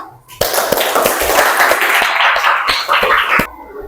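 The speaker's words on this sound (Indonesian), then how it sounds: "Nah, tepuk tangan dulu buat kita semua." A classroom group claps together in a burst of dense, close applause lasting about three seconds, with a few sharper single claps standing out before it stops abruptly.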